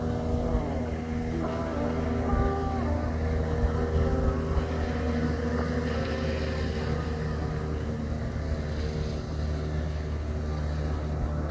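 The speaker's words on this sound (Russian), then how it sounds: "Моторка куда-то разворачивается, уезжает." A motorboat on Lake Seliger drones steadily as it turns and heads away, its engine hum continuous and fairly distant with little change in level.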